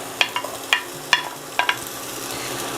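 Onions and carrot fry in a little oil, giving a steady close sizzle broken by several sharp spatula taps and scrapes against the pan, with a low hum underneath.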